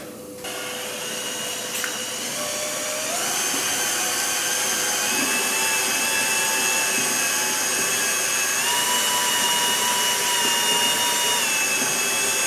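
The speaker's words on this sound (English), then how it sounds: "And then take your drill and mix it up." A power drill with a mixing paddle churns a water-thinned drywall texture mix for a hopper gun. Its motor gives a steady, loud whine that rises in pitch partway through and then holds, with no talking.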